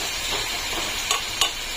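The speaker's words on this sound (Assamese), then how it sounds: "মানে আগতে পেঁয়াজ দিয়ে মাংসটা ভাজি" Duck meat frying with onions in plenty of oil, a steady close hiss of sizzling broken by two brief sharp clinks of a stirring utensil near the end.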